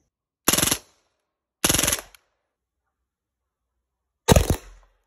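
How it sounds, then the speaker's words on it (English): A Hatsan Blitz .30 caliber air rifle fires full-auto bursts into a ballistic gel head: two short, loud rattling bursts close together, then a third burst after a pause, ending in a brief splatter. "I'm gonna put a couple rounds through it and then we're gonna full auto it"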